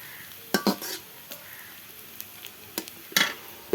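Ground ginger, cumin and garlic paste fries with browned onions in a pan, a quiet low sizzle punctuated by sharp metallic clinks and scrapes of a spoon stirring against the pan, close and irregular, no speech.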